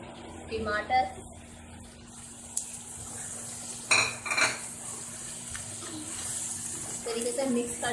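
Tomatoes being mashed and mixed into potatoes with chilies, ginger-garlic paste, turmeric, coriander and salt in a hot oiled pan, giving intermittent scraping and clinking of a utensil against the pan over a steady background hum, with a voice talking.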